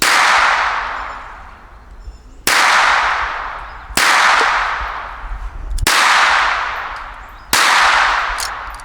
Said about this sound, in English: Gavin with the Girsan Advanced on the shoot and see target with the Winchester M1152